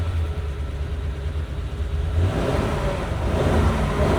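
A 1937 Ford pickup engine runs with the choke on, idling steadily and then revving harder as the throttle opens, close and loud with no talking.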